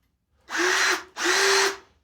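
Power drill spinning over a vintage Briggs and Stratton engine with the spark plug removed, two loud whirring bursts of under a second each with a brief pause between, close up.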